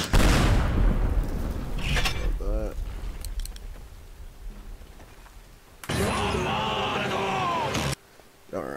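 Weapon discharge in Teardown with a time stop mod, a sharp blast at the start followed by a rumbling, grinding burst later, with quieter game noise and a voice between.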